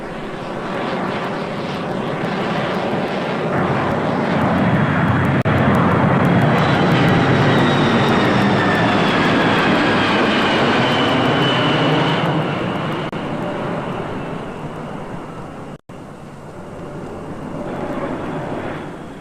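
Jet airliner engines roaring near a busy airport, a loud, sustained roar that swells as the aircraft passes close, then fades with a brief dropout and a lingering distant rumble.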